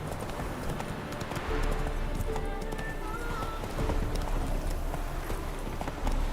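Roach the horse gallops in Witcher 3 with steady, rapid clip-clop hoofbeats over an outdoor ambience, continuous and fairly close throughout.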